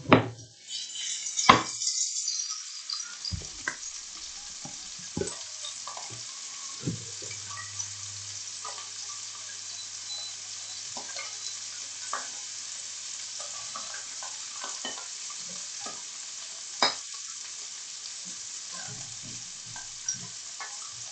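Food fries in a little oil while being stirred, a steady close sizzle with occasional scraping, tapping and clinks from a utensil against the pan.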